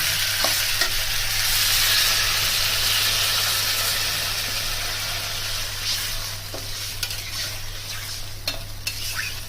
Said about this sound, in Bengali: এবার জল দিয়ে দেবো সেদ্ধর জন্য।